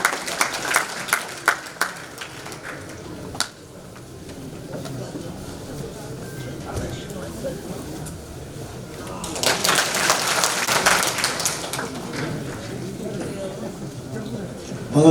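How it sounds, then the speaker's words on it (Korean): Rally audience applauding a speaker, scattered claps giving way to a broader swell of clapping and crowd noise, moderately loud and heard from within the crowd. "여러분, 이건계 의원님에게도 힘찬 박수 부탁드립니다."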